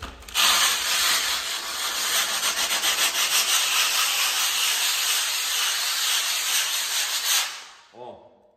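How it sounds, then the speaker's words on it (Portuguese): Harsh, continuous scraping of coarse sandpaper rubbing across a plaster ceiling, loud and close, with rhythmic back-and-forth strokes for several seconds before stopping abruptly. "Vou tentar fazer só pra vocês verem o barulho"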